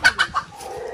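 Brooding hen on a small farm giving three quick, close clucks in a row, then a brief quiet stretch.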